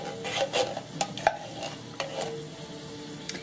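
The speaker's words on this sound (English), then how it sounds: "You can hear the sizzle." Coconut milk and sugar sizzle in a pan over medium heat while a utensil stirs and scrapes, with several clear clinks against the pan over a steady frying hiss.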